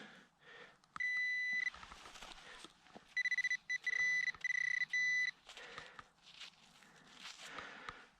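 A metal detector emits a high electronic tone in several sustained bursts, broken into short pulsing beeps, amid rustling and footsteps outdoors in a field.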